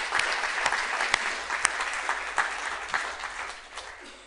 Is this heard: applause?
yes